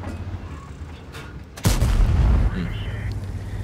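A tank cannon shot from a T-832 premium tank in World of Tanks, a single sudden heavy boom with a rumbling tail over steady engine drone.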